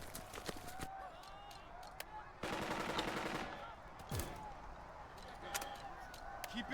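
Gunfire in the WWII strategy game Burden of Command: scattered rifle shots crackle throughout, swelling into a dense burst of rapid machine-gun fire midway before thinning back to sporadic shots.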